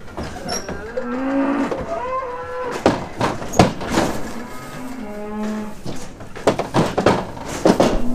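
Brown Swiss heifers close to calving moo in a farm pen, with several drawn-out, tonal calls that overlap one another at close range, and nobody speaking.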